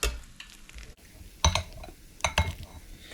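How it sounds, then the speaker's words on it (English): Korean fish cakes frying in oil held near 330 degrees, with a steady soft sizzle and a few sharper clinks and scrapes of a utensil against the pan, no talking. "frying our Korean fish cakes."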